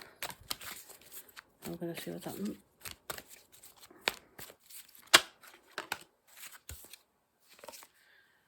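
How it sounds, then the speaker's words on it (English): Tarot cards are shuffled in short bursts of riffling and slapping, close and fairly quiet, broken by pauses, with someone speaking briefly over the handling. "I'm going to give these a good shuffle."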